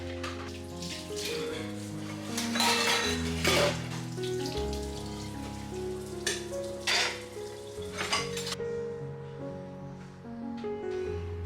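Dishes being washed and a kitchen counter being cleared: clinks of pots, plates and cutlery and bursts of splashing water sound close by over soft background music, with no talking.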